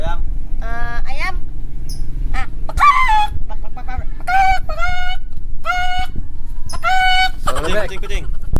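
A person imitates a chicken's clucking and crowing with a series of short, high, voiced calls, close and loud, over a steady background hum, with other voices chiming in between calls.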